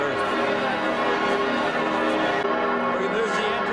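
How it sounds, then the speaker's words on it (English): Cathedral church bells ring on and on in a European town, their dense, resonant clang filling the air steadily with no break. "I don't think these bells ever stop"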